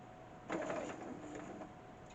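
A sewing machine stitching a zigzag applique runs in a short burst of quick rhythmic whirring and needle clatter, fairly quiet, then stops after about a second, with no talking.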